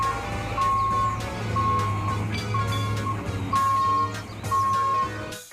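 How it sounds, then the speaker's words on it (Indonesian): Cement mixer truck reversing, its steady beeping alarm pulsing about once a second over a low engine rumble, with busy background noise throughout. "Ada mobil truk molen."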